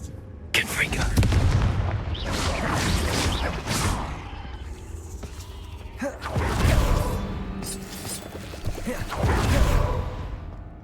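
Repeated Confringo fire-spell blasts in Hogwarts Legacy: several loud, booming bursts with crackling tails recurring every few seconds, mixed with combat noise and gasping vocal sounds.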